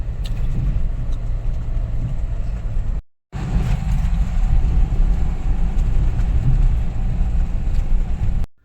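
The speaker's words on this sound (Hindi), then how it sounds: "सो गाइस फाइनली गाड़ी को लेके निकल चुका हूँ अभी।" A car sets off along a road at an overbridge, heard from inside as a steady, loud low rumble of engine and tyres with a brief dropout partway through, and no talk.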